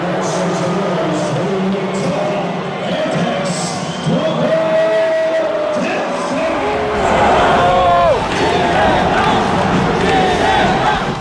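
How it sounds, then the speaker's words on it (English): Loud, dense crowd noise at a Philippine basketball game as the Talk and Text team is greeted, a sustained roar with whoops and jeering voices. "Talk and Text is greeted by a booing crowd."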